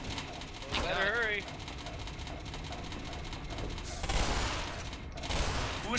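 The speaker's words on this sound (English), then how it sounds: "Who's firing off weapons without ammo?" Weapons firing in the Synergy co-op shooter game, bursts of gunfire under busy game noise and people talking, louder crackling volleys near one second and again around four seconds.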